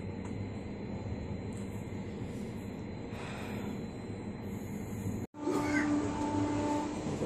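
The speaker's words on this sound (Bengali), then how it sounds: "একটা পাস করছে উল্টো দিকে ট্রেন।" A train rumbles steadily for several seconds, then a sharp break gives way to a louder rush and whine as a train passes close by in the opposite direction, heard from inside an AC coach at dawn.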